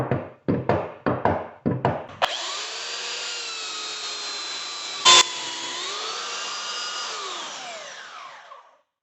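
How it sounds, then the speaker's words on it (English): A few sharp knocks lead into a sander running steadily on plywood floor underlayment in a mobile home. The motor hums loudly and evenly with one brief thump partway through, then spins down to silence. "I'm going to experiment with the sander and see what it's capable of."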